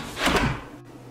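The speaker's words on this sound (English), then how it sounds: "let's test it here and shut the door" A door swings shut with a short muffled thud and a brief rumble, heard close by in a quiet room.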